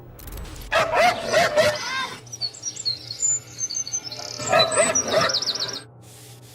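A feral girl imitating a dog, giving bursts of barks and yips in two clusters separated by a quieter stretch with high chirping sounds, fairly close and loud.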